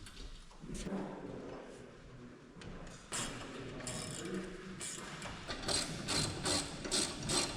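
A hand ratchet clicks in bursts of quick pawl ticks while bolts are tightened on a truck mirror mount, the clicking growing louder and sharper toward the end against background workshop noise.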